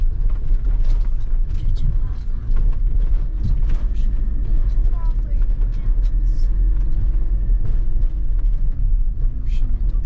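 A car crawls slowly along a rough track toward a lakeside spot, its low rumble heavy and constant, with frequent creaks and rattles of the body and suspension, and people talking over it.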